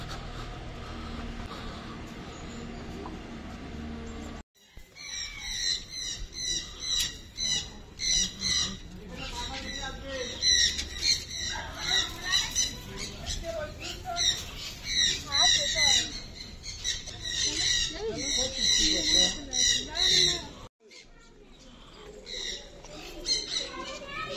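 Birds squawk and screech inside an aviary cage at Tulku bird park, loud overlapping calls in bursts close by, with a quieter stretch before and after.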